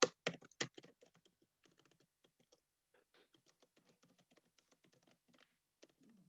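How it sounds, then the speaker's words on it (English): Rapid keystrokes on a computer keyboard, a burst of loud clicks at first, then lighter, irregular tapping that continues quietly close by. "my typing's terrible tonight"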